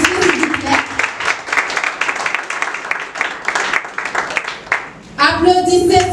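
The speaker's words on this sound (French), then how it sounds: "Applaudissez s'il vous plaît." Dense clapping from an audience fills the room, steady and loud, before breaking off near the end as a voice and tonal sounds take over.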